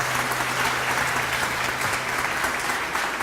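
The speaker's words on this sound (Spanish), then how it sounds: "Vamos a despedir con un fuerte abrazo y aplauso a Fabrice." Audience at a cybersecurity conference applauding after a talk, a steady, dense patter of many hands clapping throughout, even in level and unbroken by speech.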